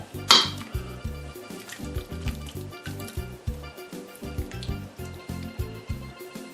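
A ladle scrapes and clinks against a pot while serving beef stew, with a sharp metallic clank at the start followed by a steady run of soft wet scoops and low knocks close by.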